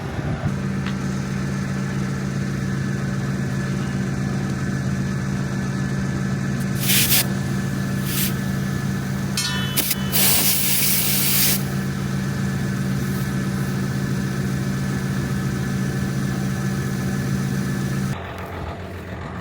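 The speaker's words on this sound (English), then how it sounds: "Just gonna put some air in one of these tires before we hit the field." A compressor runs steadily throughout while air goes into a tractor tire, with several short hissing bursts of released air partway through, before the machine noise drops at the end.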